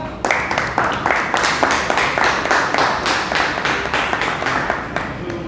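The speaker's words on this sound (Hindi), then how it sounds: "सुशील जी के लिए बहुत बहुत तालियां।" A crowd at a press conference for the show Uber Men claps in a steady rhythmic pattern, several sharp claps per second, moderately loud and sustained for several seconds.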